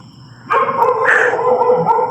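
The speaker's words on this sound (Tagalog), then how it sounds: "Maingay na naman yung aso." A dog barks and yelps close by, starting suddenly and running on in a rough, continuous burst of noisy cries.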